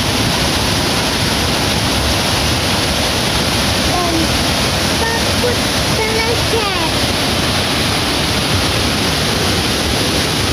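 Steady, loud rush of water from a waterfall and fast stream at Curug Kembar Batulayang near Cisarua, Bogor, a continuous broadband roar filling the whole clip without a break.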